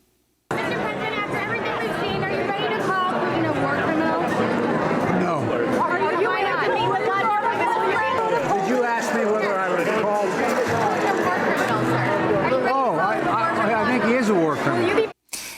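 A crowd at a White House event chatters loudly, many overlapping voices forming a steady close babble that runs unbroken for about fifteen seconds, then cuts off abruptly.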